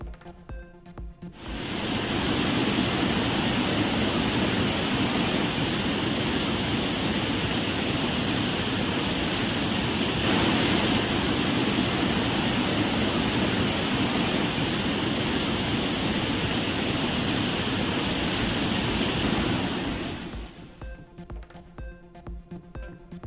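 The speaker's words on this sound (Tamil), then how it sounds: "தேனி மாவட்டம் சுருளி அருவியில் தொடர் வெள்ளப்பெருக்கு." Suruli falls in Theni district in flood: a steady, dense roar of rushing water rises in, holds constant and loud for nearly twenty seconds, then drops away abruptly, with no voices.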